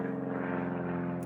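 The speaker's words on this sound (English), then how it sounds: "Oh, I've got an airplane going over me." A propeller airplane flies overhead, a steady droning hum with a pulsing engine tone that holds throughout, heard outdoors near a parking lot by a bridge.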